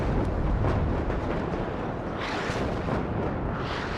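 Artillery shells strike in a fierce battle over a bridge in the wartime strategy game WARNO, a steady roar of overlapping blasts and rumbling impacts that stays loud for several seconds without pause.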